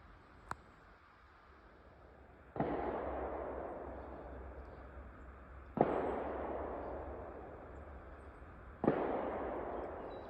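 Distant gunshots echo across an Appalachian Trail hiking route in northern Maryland: three separate faint reports, each followed by a long rolling reverberation.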